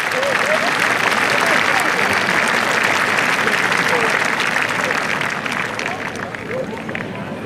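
Dense, loud applause from a large crowd at a Swiss wrestling event, honouring the sand rakers, holding steady before easing slightly toward the end.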